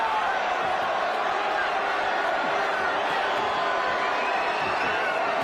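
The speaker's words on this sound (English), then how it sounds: "The crowd wanting more action." Crowd at the Emanuel Navarrete vs Oscar Valdez boxing fight: a constant, dense arena roar with murmuring and scattered shouts, steady and undiminished from start to finish.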